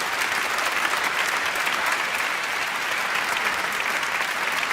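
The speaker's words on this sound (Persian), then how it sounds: "تشویق بکنید حامد و حسنین عزیزم رو." An audience gives sustained applause for two performers, Hamed and Hasanain, at a children's storytelling event about the prophet Jonah, a dense, steady wash of many hands clapping close by, with no talk over it.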